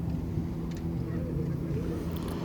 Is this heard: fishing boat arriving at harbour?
yes